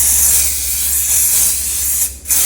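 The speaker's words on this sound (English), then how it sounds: "Give it a good spray." Fixative is sprayed from an aerosol can onto a finished soft pastel drawing, making a loud, continuous hiss that breaks off briefly near the end before resuming.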